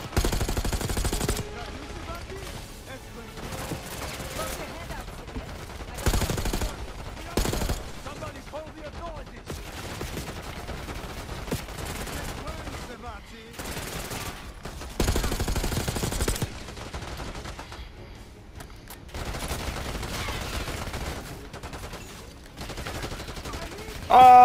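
Rifle gunfire in the Black Ops 6 campaign, a steady stream of rapid shots and bursts running throughout amid game effects, with someone talking over parts of it.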